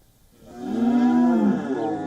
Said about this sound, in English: At his private farm, Uganda's President Yoweri Museveni is admiring his herd.